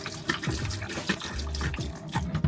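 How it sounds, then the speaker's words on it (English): A bathroom sink faucet in an RV runs steadily during winterization, a close, continuous splashing gush with small fluctuations as the water strikes the basin. "We're gonna hit the bathroom sink. Again, don't be stingy with it."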